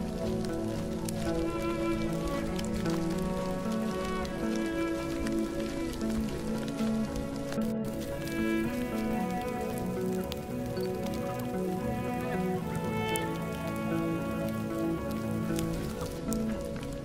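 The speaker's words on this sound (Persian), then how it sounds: "صدای بارون قشنگه" Steady rain falling by a lake with trees standing in the water, a dense continuous patter of drops on surfaces that stays even and close for the whole stretch, with no voices.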